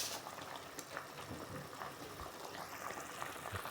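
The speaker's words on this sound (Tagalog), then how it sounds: "Isang kulo pa." Chicken soup simmering at a rolling boil in a covered pot, a steady close bubbling hiss with small pops and gurgles throughout, no talking.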